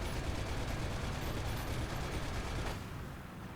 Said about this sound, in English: Gotta love shooting those light tanks.